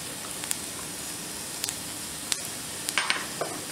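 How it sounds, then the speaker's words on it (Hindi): Carom seeds crackle and sizzle in hot mustard oil in a pan, a steady close frying hiss with a few sharp pops and spits, no voices. "यहाँ तेल गरम हो चुका है, यहाँ 1/2 छोटा चम्मच यहाँ मैं अजवाइन डाल दे रही हूँ।"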